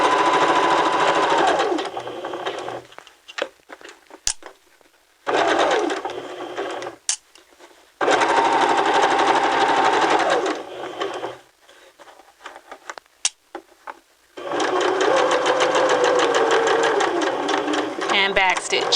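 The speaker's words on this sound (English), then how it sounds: "and continue sewing" Sewing machine stitching a side seam, running in several long loud bursts separated by short pauses, steady motor whir throughout each run.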